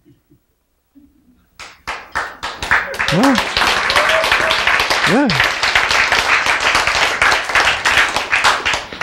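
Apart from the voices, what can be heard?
clapping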